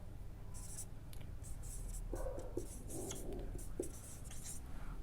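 Pen or marker scratching across a surface while a maths question on LCM and HCF is written out, a steady run of short strokes and taps close by, with no talk.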